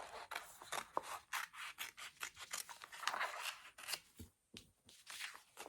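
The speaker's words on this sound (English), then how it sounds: "I'll cut out 3 tulip stickers." Scissors snip repeatedly through bright, thick wool felt, cutting out small tulip shapes in a quick, close rhythm of crisp cuts with short pauses, no talking.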